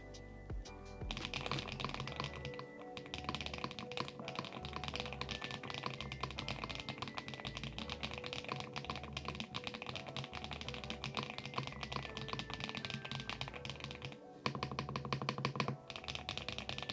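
Rapid clacking of a stock mechanical keyboard being typed on, dense and continuous keystrokes close up, with a brief pause near the end before typing resumes.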